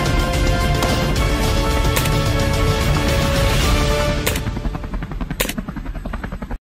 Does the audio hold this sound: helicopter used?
yes